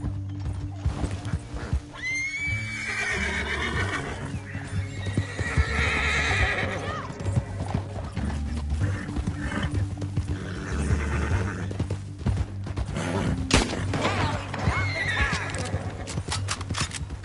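Horses neigh and whinny amid steady clip-clopping hooves in the Western video game Red Dead Redemption 2, with loud calls over continuous galloping and a background music bed.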